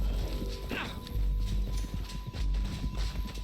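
Horse hooves clip-clopping in the video game Red Dead Redemption 2, a busy run of hoof beats mixed with game sounds and a brief neigh, with no voices over it.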